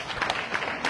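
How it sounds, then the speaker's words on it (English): Audience applause at a Bhagavata-saptaha religious discourse, a steady wash of many hands clapping close and fairly loud for just under a second, with no pause. "Applause, please."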